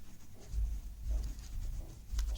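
Pen scratching out math notes by hand during a class 10 sector-area lesson, a steady close scribbling with a few firmer strokes, no voices.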